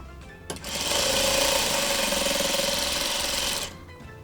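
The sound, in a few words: sewing machine sewing fabric seam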